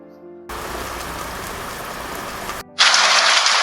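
Rain falls as a steady hiss that cuts in abruptly, stops, then returns brighter and louder, like a heavy downpour close by.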